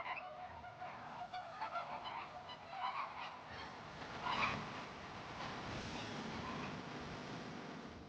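A large flock of migrating geese honking across a winter marsh, a dense, continuous chorus of overlapping calls heard from a moderate distance, with no voices.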